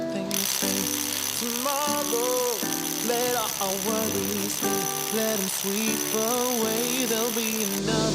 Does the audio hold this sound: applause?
no